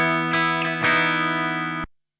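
Gibson Les Paul Studio electric guitar through effects, playing a sustained distorted chord with a few re-struck accents, humming steadily before cutting off abruptly near the end.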